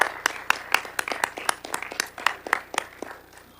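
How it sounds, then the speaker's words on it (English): Scattered applause from a modest audience at a legislative board meeting, honoring student inductees; individual claps stand out sharply in an uneven, sparse rhythm, fairly close and steady throughout. "we can provide a collective round of applause"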